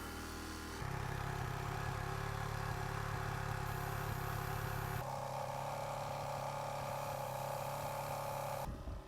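A Yamaha WR400F dirt bike idles with a steady, close mechanical throb, then shifts pitch and level partway through as revs change, before cutting out abruptly at the end.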